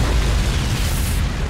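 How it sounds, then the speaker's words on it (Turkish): A nuclear bomb blast in the video game Call of Duty Modern Warfare: a loud, dense roar of explosion rumble that fills the whole short moment without a break. "İlk oyundaki nükleer bombanın patlama sahnesi."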